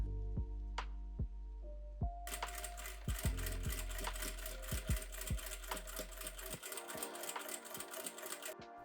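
A sewing machine stitches a vest shell to its lining, starting with a few clicks and then running in a steady rapid mechanical whir for several seconds before stopping, close and alone.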